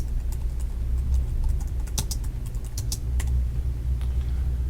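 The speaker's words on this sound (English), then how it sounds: "now we can type in the exam location" Scattered keyboard keystrokes click irregularly while someone types into a form, set against a steady low background hum.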